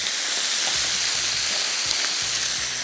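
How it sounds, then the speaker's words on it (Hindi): Chicken sizzling lightly in a pan, with a steady close frying hiss and a few soft stirring bumps underneath, no talking. "इसको हमने हल्का सा करना है फ्राई, थोड़ा सा फ्राई करेंगे"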